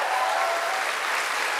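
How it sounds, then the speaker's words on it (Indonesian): Audience applause fills a church gathering, a steady dense wash of clapping from a crowd, loud and continuous with no voices over it. "Tepuk tangan dulu buat Tuhan Yesus ya."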